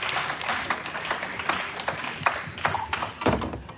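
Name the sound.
congregation applauding loudly for the Lord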